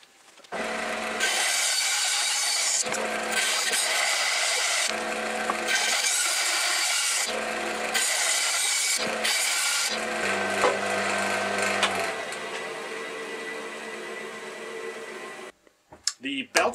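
A bandsaw with its table tilted to 25 degrees cuts wood to shape climbing holds, giving loud, steady rasping bursts separated by short pauses, then a longer continuous cut before it drops away near the end.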